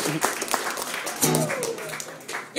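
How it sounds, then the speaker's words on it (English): Applause and clapping from an audience at a Hot Topic event, moderately loud and steady for a couple of seconds, with scattered voices and cheering mixed in. "Everybody give a round of applause for them"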